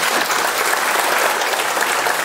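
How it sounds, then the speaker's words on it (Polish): Loud, dense audience applause at a concert by a senior women's performing group in a hall, continuous even clapping from a full crowd for the whole brief moment. "Duże brawa dla niego"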